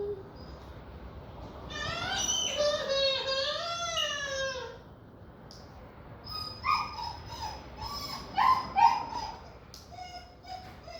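A dog yelps and whimpers in high, rising and falling cries, two loud bursts separated by a short pause, close to the microphone.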